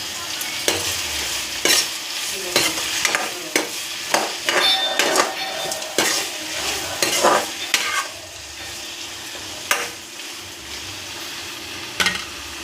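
Tomatoes with rock salt being sautéed in a pan, with repeated sharp scrapes and clinks of a spoon stirring over a soft sizzle and a few quieter pauses between strokes.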